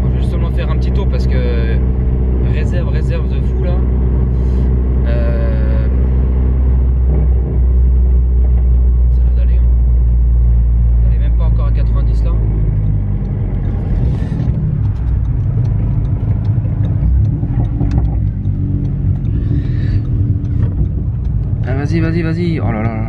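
A Seat Leon Cupra R engine drones with a deep, steady rumble while driving, loud and continuous, with people talking over it throughout.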